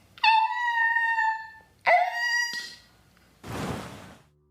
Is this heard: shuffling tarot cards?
no